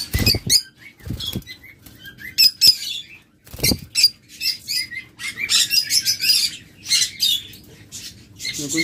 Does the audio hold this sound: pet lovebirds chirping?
yes